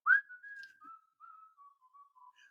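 A person whistling the Robin Hood opening song, a short, clear melodic phrase of sustained and sliding notes, close and solo with no other sounds.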